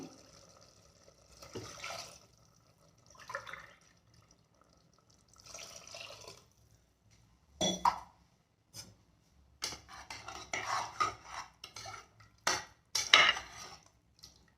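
Water splashes into a metal pot in several short bursts, two cups per cup of rice for chicken biryani, with occasional clinks of cookware between pours; no talking.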